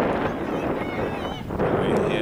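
Gusty wind buffets an outdoor microphone at a school road relay race, a steady low rumble running throughout with a brief dip near the middle.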